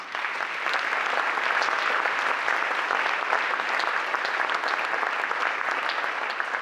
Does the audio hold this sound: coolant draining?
no